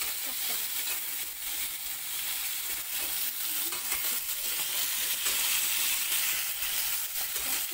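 Prawns sizzle and fry steadily in a hot pan for a Bengali prawn malaikari, a dense continuous crackling hiss with faint stirring scrapes and no talk.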